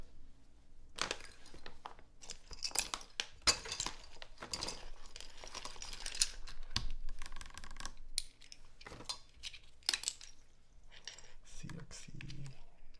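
Typing on a newly built Zoom65 mechanical keyboard: a steady run of close, crisp key clacks at an uneven pace, with a person talking over parts of it.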